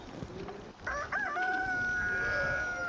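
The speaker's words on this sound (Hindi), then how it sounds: "मुर्गा बोल बोल चुका है, उसका मतलब सुबह हो गई है" A rooster crows at dawn in the video game Palworld, one long drawn-out call rising clearly over a steady ambient background and carrying for about two seconds.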